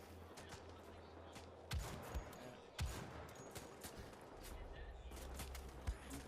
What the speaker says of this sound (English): So this is the new bolt action rifle, and I've got the attachable scope right here.